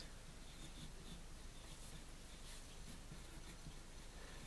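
A fine-nib Sailor fountain pen with Noodler's Red Black ink scratches across paper in a faint, continuous close-up rasp with slight rhythmic strokes.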